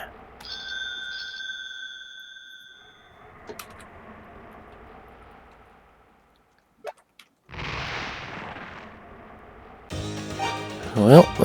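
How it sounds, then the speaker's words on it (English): An evil bell rung in the video game Ys II Chronicles+ gives sustained, bright chiming tones, followed by quieter game sound effects, a brief silence and then louder bursts of in-game noise. "maybe ringing this evil bell will bring them out into the open"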